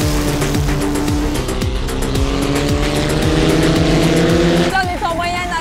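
A race car engine at full capacity on a track screams loudly and continuously, cycling through rising pitch sweeps as it shifts gears, with tire noise and a voice talking over it.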